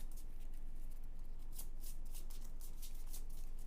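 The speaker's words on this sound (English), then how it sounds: "So here are the pink cards. Give these a good shuffle." A deck of pink reward cards from the Imperium board game is shuffled by hand close up, giving a run of crisp riffling bursts in quick succession over a quiet room hum.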